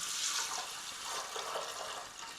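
Filtered water pours for cooking rice, a soft steady splashing stream that stays faint and continuous for a couple of seconds with no talking.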